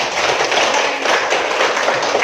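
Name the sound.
classroom applause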